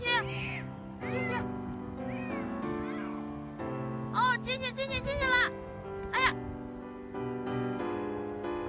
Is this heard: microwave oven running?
no